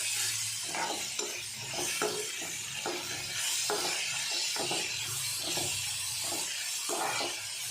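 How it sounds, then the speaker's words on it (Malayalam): Onions fry in a pan for crab gravy while a spoon stirs them, giving a steady sizzle with rhythmic scraping strokes close up and no voices. "ഇതൊന്ന് ഇളക്കി കൊടുക്കുക."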